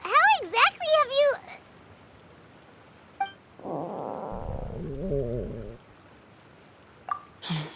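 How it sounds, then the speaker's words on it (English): Stomach growling in a Genshin Impact cutscene: a low, wavering rumble rises and swells for about two seconds mid-clip, framed by brief character voices before and after. "That would be my stomach growling."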